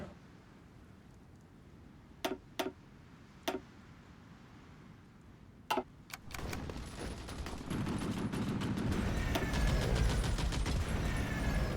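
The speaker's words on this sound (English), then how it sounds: "we got shore bombardments hitting us" Shore bombardment in Hearts of Iron IV, set in 1945, lands as a few sharp isolated booms, then swells into a dense, continuous roar of rapid gunfire and explosions that grows louder toward the end.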